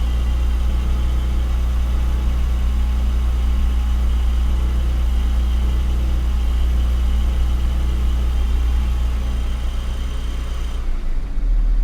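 A 2022 Porsche 718 GTS 4.0 PDK engine on cold start, running with a steady low, heavy drone at elevated revs, then dropping slightly as it eases back toward idle near the end.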